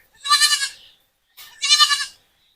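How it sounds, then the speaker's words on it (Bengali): Goats on a farmhouse holding in Manikganj bleat twice, each a loud, wavering, nasal cry lasting well over half a second, with a short silent gap between them and nothing else audible. "এখানে যে ছাগল পালা হয় এই যে আর বাকি ছাগলগুলো মাঠে আছে"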